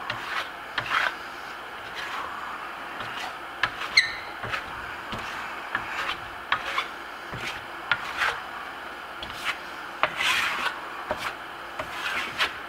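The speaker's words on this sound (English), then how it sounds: "Putting it on just like I did the past two coats, laying it on almost flat, and I bring it up on the edge of the blade." A steel trowel spreads and burnishes a thin, tight coat of Grasello Venetian plaster on a wall, giving soft, close scraping and rubbing strokes in an irregular rhythm with brief taps between passes.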